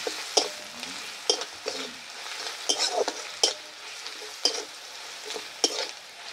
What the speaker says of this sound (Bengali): সামান্য একটু লবণ, হলুদ দিলাম, হলুদ দিয়ে একটু নাড়াচাড়া করে নেব।